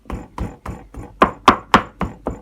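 Pork is finely minced with a knife for northern Thai larb, giving nine crisp knife strikes on a cutting board in a steady, even rhythm, with no talk.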